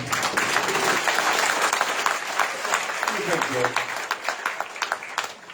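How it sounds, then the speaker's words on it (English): Applause from the audience at a Republican gubernatorial candidate debate, loud dense clapping that thins into separate claps toward the end, with a voice briefly talking over it midway. "feel free to applaud"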